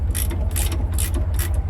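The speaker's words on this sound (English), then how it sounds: "This top one is usually one that gets in trouble with the ratcheting wrench" A ratcheting wrench turns a bolt on a truck disc brake chamber, giving loud, close clicking bursts in a steady back-and-forth rhythm, about four strokes in quick succession.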